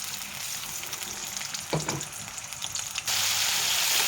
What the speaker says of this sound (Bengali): তেলটা গরম হয়ে গেছে, ওর ভিতরে চিংড়ি মাছগুলো একটু ভেজে নেব।